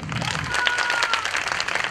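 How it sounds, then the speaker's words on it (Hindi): An audience at a certificate and award ceremony in Cheeta Camp claps in a brief, steady burst of applause, with no voices over it. "इसके लिए प्लीज़ ज़ोरदार तालियां"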